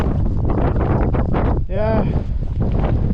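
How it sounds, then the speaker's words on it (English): Gusty wind roars and buffets the microphone throughout on a clifftop ahead of a squall, with a voice briefly audible through the rumble. "It's pretty gnarly weather, as you can see. It's pretty windy."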